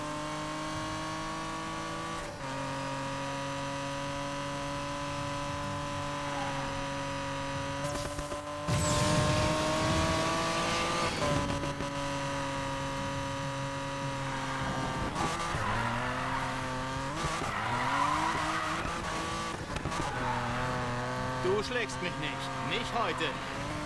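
In the racing video game Need for Speed Payback, a car engine revs and whines through gear changes while tires squeal and skid in bursts, with someone talking over the game sounds.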